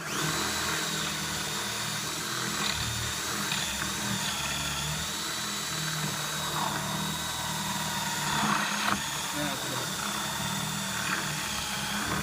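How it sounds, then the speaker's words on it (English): A power drill runs steadily for about twelve seconds, boring through a very hard bamboo node inside a shakuhachi flute, with a continuous grinding whine and small surges as the bit bites into the node. "this is a extremely hard node, so the drill is very useful for this one"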